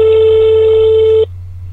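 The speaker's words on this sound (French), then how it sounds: "au bout de quelques sonneries, on va faire plus court que le réel, j'ai fini par avoir quelqu'un" A French telephone ringback tone, heard while calling from a motorway service area, plays as one steady, loud tone for about a second and a quarter, then cuts off abruptly, leaving a low background hum.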